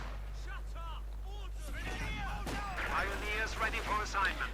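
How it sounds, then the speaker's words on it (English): Machine-gun and artillery fire from a Company of Heroes 2 2v2 match plays as steady battle noise with sharp bursts, mixed under continuous talk from a caster. "Lots of machine guns, lots of firepower."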